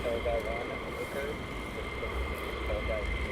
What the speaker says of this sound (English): Some more taxiing down from runway 24 here at RAF Lakenheath.